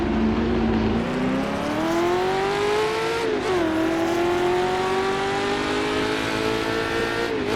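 Lotus 40 sports racing car in Brabham Repco colours in a racing video game, its engine note climbing steadily through the gears, briefly dipping on a shift and rising again, loud and continuous with no talk.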